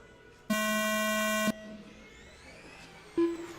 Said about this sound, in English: When the buzzer goes off, you'll go.